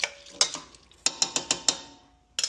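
A spoon scrapes and clinks against a pot while canned beans are stirred into a Caribbean spice chicken pot: sharp, close taps come in an uneven rhythm, a quick cluster in the middle, then a pause before a final couple of knocks.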